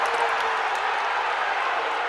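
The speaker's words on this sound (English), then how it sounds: "you could probably hear the boos from the line" Basketball arena crowd at a UNLV versus Colorado State men's game booing after a missed free throw, a dense, loud, steady roar of many voices filling the space without break.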